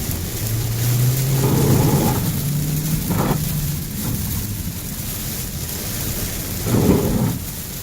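A car pushes through deep puddles in heavy rain, a loud steady wash of rain and tire roar with swelling splashy surges as water is thrown aside, no voices.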